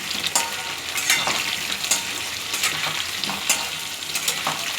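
Potatoes frying in oil in a pan, a continuous close sizzle punctuated by several sharp stirring scrapes at irregular intervals, with no talk.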